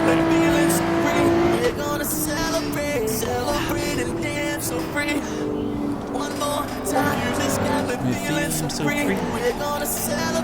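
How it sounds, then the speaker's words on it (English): A steady, droning race car engine in Assetto Corsa on PC hums continuously with shifting pitch, loud and constant throughout, with faint tire noise. "All you hear is the engine."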